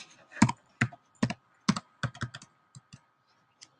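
Password typed on a computer keyboard: a short burst of about a dozen crisp, close key clicks in uneven clusters, with no talking.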